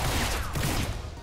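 Gunfire from the video game XCOM 2 crackles through a dense, steady stretch of rapid shots, sounding like a sustained volley rather than single reports, with no talk over it.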